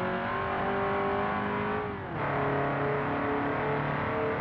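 Engine of a boxy VW Gol GL revs steadily in BeamNG Drive, a loud continuous drone with harmonic whine that dips briefly before pitching up again as the car accelerates.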